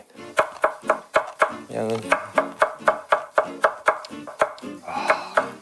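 Knife chopping cilantro on a cutting board in a steady, fast rhythm of sharp close knocks, about fourteen strokes, with brief talk partway through.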